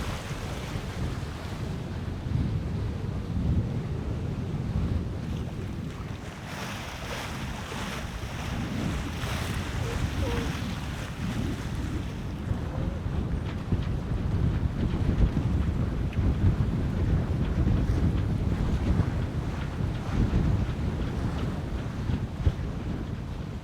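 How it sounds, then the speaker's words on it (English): A 50ft sailboat ghosts into a shallow anchorage under sail, steady wind roaring across the microphone over the rushing wash of water along the hull, loud and continuous throughout with no voices. "We are sailing in super close to the anchorage"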